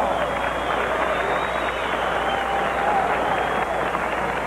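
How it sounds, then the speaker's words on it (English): Boxing crowd applauding after a junior welterweight bout ends in a draw, a continuous wash of clapping and crowd noise in a large arena, steady throughout. "let's give the participants in the last fight one heck of an applause"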